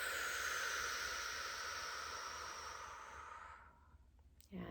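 A long, slow exhale, close and breathy, fades out during a guided morning prayer, followed by a quick intake of breath at the very end.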